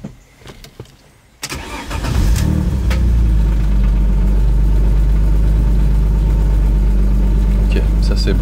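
A car engine cranks and catches after a brief quiet moment, then idles loudly and steadily close by, heard during a retest following an air box repair on a car that had been stalling.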